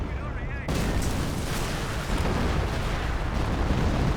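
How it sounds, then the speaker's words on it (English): A 25-pounder artillery barrage rumbles in Company of Heroes, a dense, continuous roar of blasts that swells abruptly after a brief quieter opening and stays loud throughout, with no speech. "25-pounders engaged and got decoy and actual barrage. Actual barrage right there."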